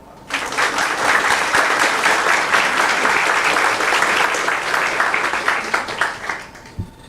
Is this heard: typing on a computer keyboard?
no